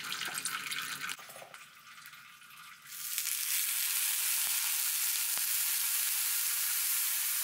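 Homemade bacon sizzling and frying in a pan, a steady broadband hiss that swells to a loud, continuous crackle partway through and holds there with occasional pops.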